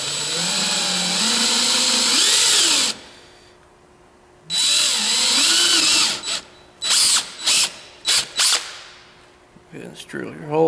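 A power drill fitted with a 9/64 bit bores holes in a boat console mount: two long, loud whining runs, each holding a few seconds and ending with a short slowdown, followed by a string of quick bursts and short triggers.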